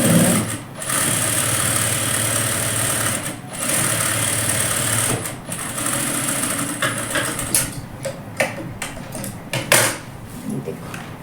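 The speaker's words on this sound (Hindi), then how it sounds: "इसको पक्की सिलाई लगा देंगे।" Close, loud whirring of a sewing machine sewing a firm seam on palazzo trouser fabric, running almost continuously with a few short stops and uneven clicks toward the end.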